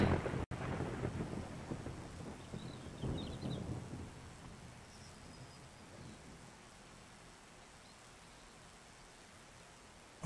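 Thunder rumbles low and loud during rain in 7 Days to Die Alpha 20, rolling for several seconds before fading to a quiet, steady hiss of rainfall.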